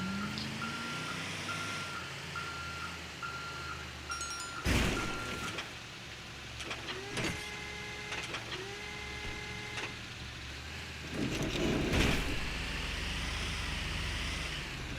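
A tow truck reversing in GTA 5 Online: a run of evenly spaced electronic backup beeps sounds close and clear over engine hum, broken by a few sharp thuds and bangs.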